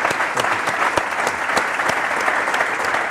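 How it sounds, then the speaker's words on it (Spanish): Sustained applause from a conference audience at a Startup Grind Barcelona event, dense steady clapping with a few sharper claps standing out, loud and continuous throughout with no talking. "un gran aplauso para Luis Martín Caballeres"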